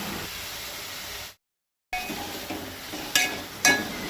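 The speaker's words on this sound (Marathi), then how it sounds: "अळमी मातशी परतून घेवंक जाय तेलार।" Mushrooms sautéing in oil for a Goan tonak, a soft steady sizzle that cuts out briefly, then returns with two short metallic clinks of a spoon against the pan.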